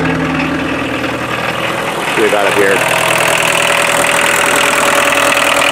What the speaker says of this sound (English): You can hardly tell it's a diesel. It's so whisper quiet.